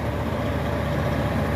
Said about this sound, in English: I don't know why my damn truck's running, wasting diesel fuel.